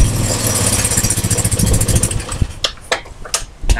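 A 4-stroke dirt bike engine runs loud and close, with a steady low throb that gives way to uneven bursts and sharp revs toward the end.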